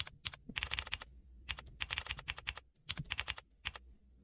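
Rapid bursts of clicking keystrokes on a computer keyboard, clustered in quick runs separated by short pauses, close and clear with no talking.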